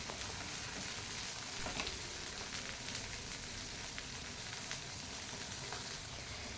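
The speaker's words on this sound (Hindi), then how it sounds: "इधर डाल दूँगी मटर में और थोड़ी देर के लिए इन सारी चीज़ों को भून लूँगी" Diced carrots and peas sautéing in a pan give a dense, even, rain-like sizzle throughout, quiet and steady, with faint occasional stirring and no speech.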